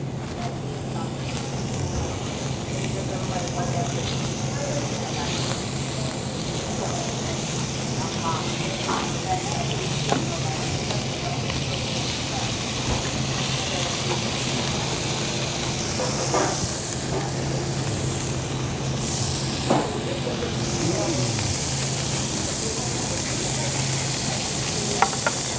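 Pork pieces frying in a pan, a steady broad sizzle running throughout with occasional pops and crackles, fairly close and continuous.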